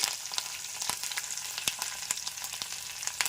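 Curry leaves and turmeric sizzle in hot oil for a mango-coconut chutney tempering, a lively crackle of sharp pops repeating irregularly over a constant hiss, close and without talk.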